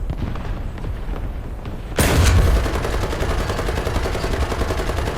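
A tank cannon fires in a video game battle between American and British tanks: one sudden loud blast erupts over a constant rumbling background, then a bright crackling wash trails off, with no voices.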